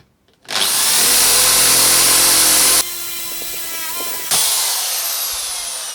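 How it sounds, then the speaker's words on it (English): A power drill starts up loudly and bores into white oak, its high whine shifting pitch as it bites and eases, continuing steadily for several seconds. "let's get down to drilling"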